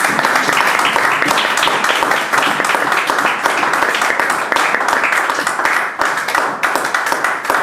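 A church congregation claps and applauds loudly and steadily, many hands together for several seconds in a sustained, close roar of clapping.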